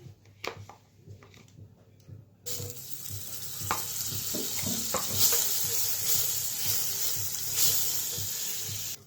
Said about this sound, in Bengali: বাটারটা মেল্ট হয়ে গেছে